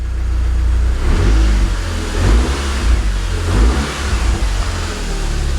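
A car engine revs up and falls back in a few throaty swells over a steady low idle rumble, loud and close.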